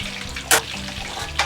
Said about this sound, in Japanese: ゴーヤを油で苦味を封じ込めながら蒸します。